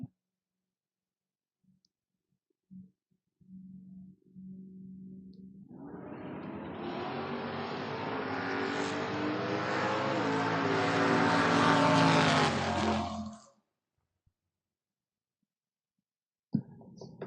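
Corvette and El Camino in a Pro Torque bracket drag race at a strip: quiet idle hum first, then both cars launch into a loud, sustained full-throttle roar for about eight seconds before it cuts off abruptly.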